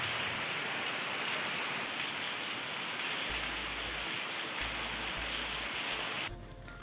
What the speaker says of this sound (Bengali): আজকে সকালেও ঝমঝমিয়ে বৃষ্টি পড়েই যাচ্ছে